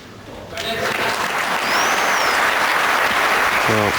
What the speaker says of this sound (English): Well, there is applause